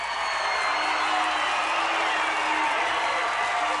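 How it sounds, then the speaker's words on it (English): A crowd in a gym at a high school basketball game keeps up a steady wash of applause and cheering, dense and continuous for the whole stretch. "John Marshall team applauding"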